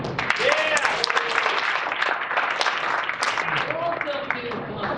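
Audience at an evening event at the South Broadway Athletic Club clapping steadily and loudly for several seconds, dense hand claps with voices calling out and talking through the crowd noise.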